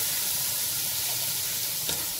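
Chopped tomatoes sauté in a pan, giving a steady close sizzle with soft stirring scrapes and one brief sharper clatter near the end, with no voices.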